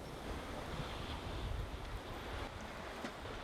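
Sea waves wash continuously against Suudo, a small island near Tongyeong, South Korea. The broad, rushing surf is steady and fairly faint, with wind noise mixed in and no voices.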